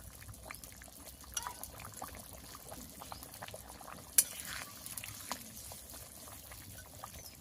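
Water is poured into a simmering fish curry with cauliflower, potato and fried lentil dumplings, making a faint, soft trickling pour with no talk.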